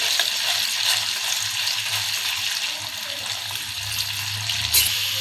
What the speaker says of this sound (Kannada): ಈಗ ಬೆಳ್ಳುಳ್ಳಿ ಏನು ಕಟ್ ಮಾಡಿ ಇಟ್ಕೊಂಡಿವ್ರಿ ಎಣ್ಣೆ ಒಳಗೆ ಹಾಕ್ಕೊಳ್ಳೋಣ್ರಿ.